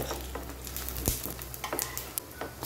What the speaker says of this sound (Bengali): এইভাবে সব বড়াগুলি আমি অল্প অল্প লাল করে ভেজে নেব